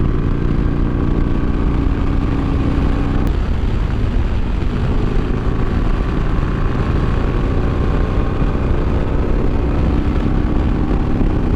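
A Harley-Davidson Iron 883 motorcycle fitted with progressive fork springs rides along with a steady, loud engine drone and wind rush, shifting down a gear partway through without any break in the continuous roar.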